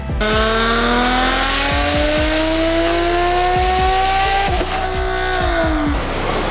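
A turbocharged Nissan 350Z with a custom rear-mount turbo kit making about 620 wheel horsepower, its engine droning loud and close with a steadily rising pitch, ending with a drop.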